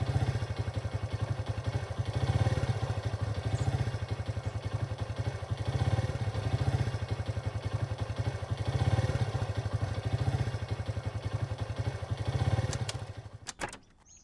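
A motor vehicle engine runs with a steady, pulsing low chug that swells and eases in slow cycles. It cuts off near the end with a few faint clicks.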